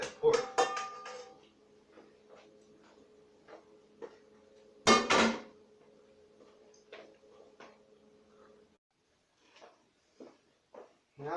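Pork pieces dropped into a metal pot for three-meat chili, a cluster of clanks and clatter at the start and another sharp knock midway, followed by scattered light taps and utensil clicks nearby.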